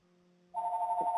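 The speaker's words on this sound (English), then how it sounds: "I'm sorry, that's my phone" A phone rings nearby with a steady electronic tone that starts abruptly partway through and continues loudly to the end, after a quiet stretch of low hum.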